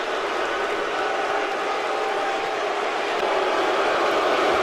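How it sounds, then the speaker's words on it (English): A wrestling arena crowd in the WWE 2K video game, heard as a steady wash of roaring and murmuring that swells slightly toward the end with no break. "This crowd does not like the Switchblade."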